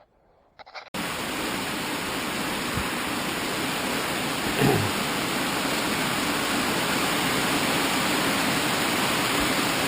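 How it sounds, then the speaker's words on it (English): Heavy rain pours steadily outside, a dense, loud hiss that begins abruptly after a brief near-silence and holds constant, with one soft thump partway through. "It is raining cats and dogs outside right now."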